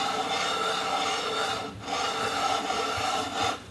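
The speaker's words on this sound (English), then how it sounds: "Move it around on the sandpaper" Hand-sanding a boot on sandpaper to polish it, a continuous close rasping rub with steady strokes and a brief pause midway.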